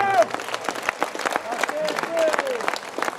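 A live concert audience in Trinitapoli claps and cheers for a few seconds, a busy patter of hands mixed with crowd noise and a voice rising over it.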